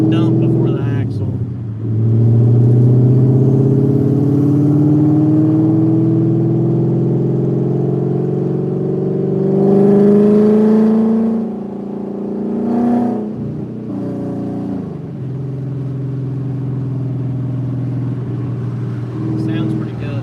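A Coyote-swapped Ford Mustang Cobra with Flowmaster FX straight-through 3-inch mufflers and a dump before the axle rumbles loud and close, its deep exhaust note slowly climbing in revs and then giving a couple of short blips.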